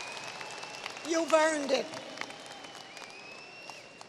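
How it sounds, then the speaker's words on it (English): Graduates applauding at an undergraduate commencement ceremony, a moderate wash of clapping from a large crowd heard under a speaker's voice, swelling briefly then settling into a softer, distant patter. "Give yourselves a pat on the back and a healthy round of applause"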